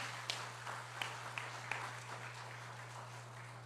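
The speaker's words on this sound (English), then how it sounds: "Would you give Landry a round of applause?" A church audience gives a round of applause at a Sunday graduation service, a soft, distant patter of claps with a few sharper hand slaps above a steady electrical hum.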